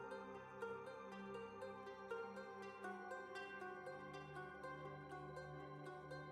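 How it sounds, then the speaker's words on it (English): Dynamic ambient score from the Mars colony strategy game Per Aspera, heard with the camera zoomed out: layered sustained tones with a soft pulsing rhythm, steady and full, with no voices. "I forgot that music is dynamic in this game."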